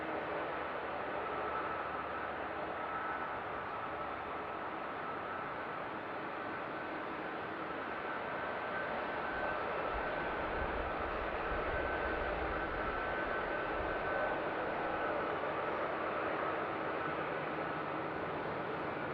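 Jet airliners at Seattle-Tacoma airport, one of seven lined up, rumbling as a steady broadband roar with a low swell midway, continuous and moderately distant, no voices.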